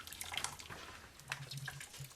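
Wort dripping and trickling from a squeezed brew-in-the-bag hop bag on a stovetop boil, a faint patter of drops and small splashes into the pot, fairly quiet and close.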